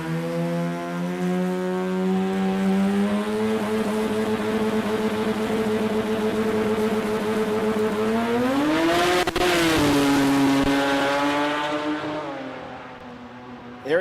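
A sports compact drag car launches and pulls hard through its gears at a drag racing event, a loud sustained engine roar climbing in pitch with a clear shift dip around the middle before fading as it runs away.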